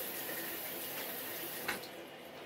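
Tap water runs steadily into a sink while someone wets their face, a soft, even rushing stream with a brief splash near the end.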